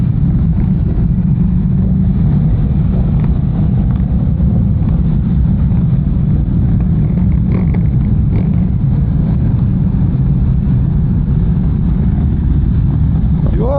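Many Ducati Scrambler motorcycles ride together in a parade, their engines blending into a steady, loud low rumble throughout with no clear individual revs.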